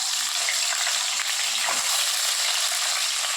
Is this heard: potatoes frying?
yes